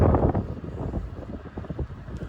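Wind over flat farmland near Portage Des Sioux rumbles and buffets against the microphone, strongest at the start and then easing into softer irregular gusts.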